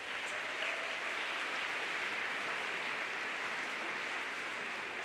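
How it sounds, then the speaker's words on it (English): An audience at a homeschool graduation ceremony applauds steadily, making a soft, even wash of many hands clapping that sounds distant and continues without a break for about five seconds. "Let's give them a round of applause."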